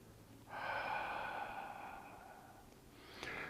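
A slow, soft exhale during qigong practice, a single airy breath drifting out for a couple of seconds before a brief faint inhale, close and quiet with no talking.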